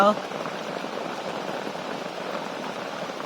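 Steady rain from a big storm patters down continuously, a dense, even hiss of drops on surfaces close by, with a brief louder gust at the start.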